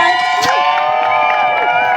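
Crowd at a women's and racial equality demonstration in Manchester cheering and whooping in support, a steady loud roar of many voices with high shouts rising over it, no individual speech.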